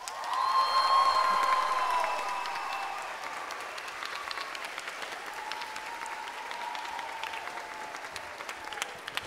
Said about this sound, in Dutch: Want volgens mij moeten wij deze man, Francesco, ook nog even een heel groot applaus geven.